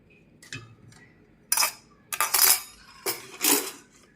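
A metal spoon clinks and scrapes against a bowl while sautéed onions are mixed into paniyaram batter, producing several sharp, close taps and scrapes in irregular bursts.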